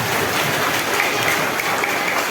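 An audience at a temple puja claps steadily, with dense, even applause that continues throughout at a fairly loud level.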